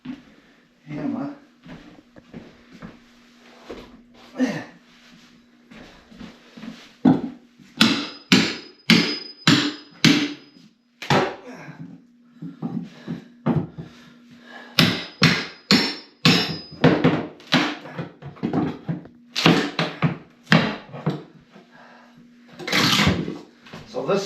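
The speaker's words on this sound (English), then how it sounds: "I got my hammer." Sharp hammer blows strike in quick bursts during a home renovation, with clusters of loud, rhythmic impacts separated by pauses, and a person talks between them.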